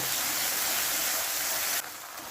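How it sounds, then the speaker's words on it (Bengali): A coriander-cumin paste sautéing in a pan on a low flame, making a steady broadband sizzle that drops abruptly in loudness near the end. "ধনে জিরে বাটা দিয়ে এক থেকে দেড় মিনিট লো ফ্লেমে কষিয়ে নেব"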